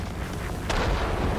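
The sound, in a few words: aircraft exploding in the video game World of Warplanes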